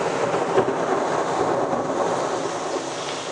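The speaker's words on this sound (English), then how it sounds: "Now this is a real, very severe thunderstorm." Thunder rumbles through a severe thunderstorm in New York City, a steady loud roar of rain and rolling thunder that stays strong for the whole stretch, with no talk over it.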